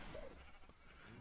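A sheep gives a single short bleat at the start in the Minecraft modpack FTB Infi-Tech 2, faint against a quiet hum of background game ambience.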